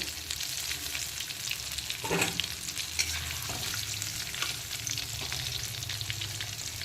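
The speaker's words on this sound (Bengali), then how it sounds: "এখন আলুগুলোও কিন্তু খুব সুন্দর করে হালকা বাদামি কালার করে ভেজে নিয়েছি" Potato pieces frying in hot oil after browning, a steady close crackling sizzle with occasional utensil stirs and scrapes throughout.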